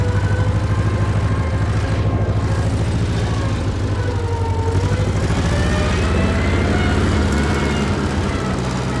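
A Ford 9N tractor engine with governor trouble runs nearby, a loud, steady low chugging with a slightly uneven pulse throughout.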